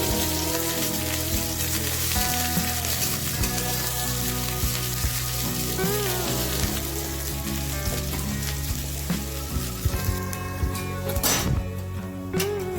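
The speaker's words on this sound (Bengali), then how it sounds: "আদা ও লঙ্কা দিয়ে ভালো করে ভেজে নেব" Ginger and chili sizzle steadily in hot oil, a dense crackling hiss that runs throughout, with music playing softly underneath.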